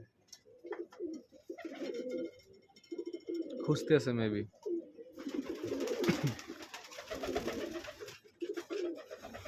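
Pigeons coo at a pigeon loft in repeated low, throaty rolls close by, while a person speaks briefly now and then.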